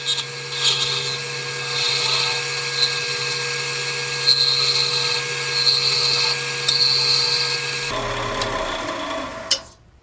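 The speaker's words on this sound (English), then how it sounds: "So I'm going to do this with a 3/8" spindle gouge." A wood-turning lathe spins steadily while a 3/8 inch spindle gouge cuts a flying saucer Christmas tree ornament, giving a constant droning hum with a thin high whine that runs for about eight seconds and then winds down.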